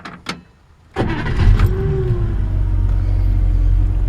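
A 1956 Chevrolet Bel Air starts up after a couple of sharp clicks and a brief pause, then its engine settles into a steady, close, loud idling rumble.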